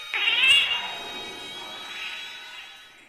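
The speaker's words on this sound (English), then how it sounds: "A black cat is staring at me" A black cat in the pixel horror game The Last Door meows and caterwauls loudly, a strained yowl that peaks early and then trails off into a fading wail.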